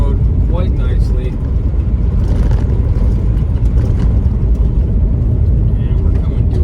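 A 1988 Ford Ranger XLT pickup cruises in fourth gear along a bumpy dirt road, its engine and road noise forming a loud, steady low rumble heard from inside the cab.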